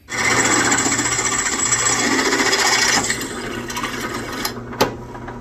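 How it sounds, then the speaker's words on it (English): A drill bores a hole through walnut wood for a table build, a steady close grinding whir that fades slightly near the end, with a few sharp ticks and no talking. "So I'm going to drill this one, and then raise the table, and then drill through the other side."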